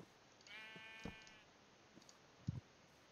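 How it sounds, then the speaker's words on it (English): A Minecraft sheep lets out a faint, drawn-out wavering bleat, followed by a few soft clicks and thuds from game play at low volume. "there's a ton of sheep over here"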